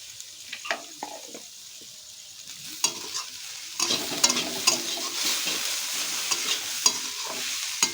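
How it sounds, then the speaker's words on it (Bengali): Vegetable momo filling of mixed vegetables sizzles and crackles steadily in a hot pan while being stirred, with occasional louder scrapes and knocks from the spatula against the pan. "ব্যাস এবার এটাকে খুব ভালো করে আমরা ভাজবো।"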